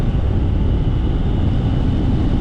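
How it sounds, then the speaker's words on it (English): A Honda XR150 dual-sport motorcycle's single-cylinder air-cooled engine drones steadily and loudly while riding, mixed with rushing wind noise. "it's got good torque for a single cylinder air-cooled engine"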